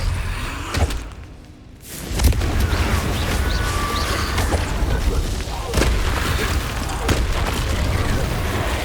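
A heavy blast from the Confringo explosive curse in Hogwarts Legacy: a booming impact around two seconds in, after a brief lull, then sustained loud rumbling and crackling debris with further thuds.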